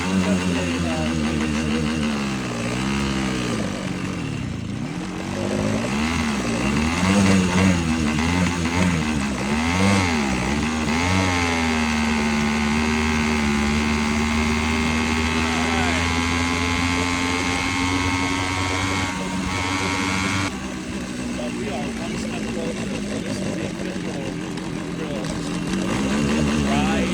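A Minarelli hybrid scooter engine on its first fire-up revs and surges continuously, a loud, close, buzzing two-stroke note rising and falling in pitch, with no talk over it.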